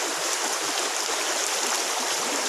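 Water streams steadily off a clump of freshwater stream algae being twisted and wrung out by hand, a loud, continuous splashing rush with no pauses.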